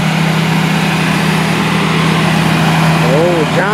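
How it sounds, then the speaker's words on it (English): A John Deere tractor engine running at the Charles County Fairgrounds fair in 2022, a loud, steady droning hum throughout, close by, with a brief chirpy sound near the end. "Look at what the tractor doing here."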